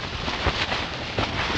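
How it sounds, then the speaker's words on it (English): Strong wind of a night storm at a sand dunes campsite roars and buffets the microphone in a continuous broadband rush, with gusts swelling now and then. "So this is the storm that had decided to roll in that night"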